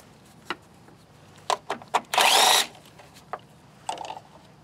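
A 10mm socket tool working on engine bolts near an engine cowl gives a series of sharp metallic clicks and ratchet bursts, with one longer whirring spin in the middle; nearby and fairly loud, no talking.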